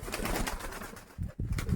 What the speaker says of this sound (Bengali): পায়রাগুলো সব ছাড়া হয়েছে এখন ছেড়ে দিই